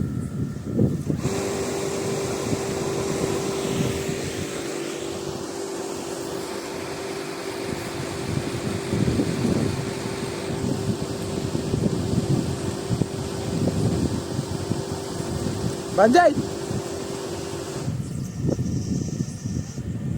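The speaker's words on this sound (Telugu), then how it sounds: "పర్ఫెక్ట్గా అయితే మోటార్ అయితే రన్ అవుతుంది, ఎక్కడ డిస్టర్బెన్స్ లేకుండా" A three-phase 5 HP electric motor hums at one steady pitch for about sixteen seconds, surrounded by gusty wind noise and faint background rumble.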